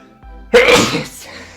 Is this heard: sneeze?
yes